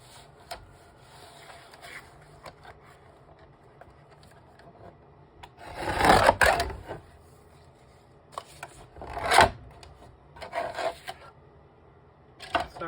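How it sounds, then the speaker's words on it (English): A decal trimmer cuts along the sides of a craft card, making harsh rasping, grinding bursts a second or so long, loud and close, separated by quiet handling noise. "so I'm going to use a decal trimmer. And trim off the 2 sides."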